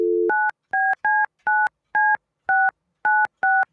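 Telephone touch-tone dialing while calling someone: a brief dial tone, then a quick run of about nine clipped, evenly spaced dual-tone beeps, loud and clear.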